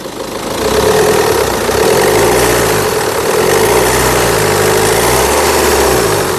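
A 2016 BMW 520d diesel engine idles steadily and close by, a loud even rumble with a faint knocking texture and a slow wavering pulse throughout.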